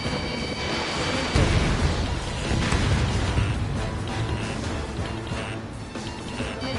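A missile explodes in a combat video game, a loud burst with rumbling low boom that hits and rolls on amid aircraft-like roar and debris noise for several seconds, with no talking.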